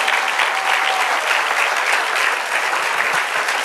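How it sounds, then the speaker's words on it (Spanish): A church congregation at a women's meeting bursts into dense, continuous applause, a steady even wash of clapping in a large room with no talk over it. "Denle otro aplauso al Señor."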